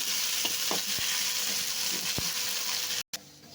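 Fish oil frying in a pan at home, a steady loud sizzle throughout with faint clinks of stirring and a brief cut near the end.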